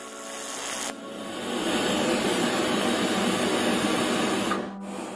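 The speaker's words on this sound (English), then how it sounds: "Here I am welding some 1/8 inch hot rolled 1010 steel." Steady, continuous buzzing hiss of a Longevity Tigweld 200sx TIG welder arc running on 1/8 inch hot rolled 1010 steel with ER70S2 filler rod, close and even for several seconds before cutting off near the end.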